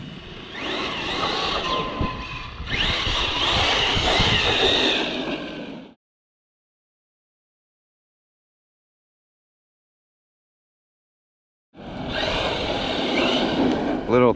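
Traxxas XRT RC truck with an upgraded X servo driving hard, its electric motor whining and drivetrain rattling loudly in two bursts separated by a long stretch of silence.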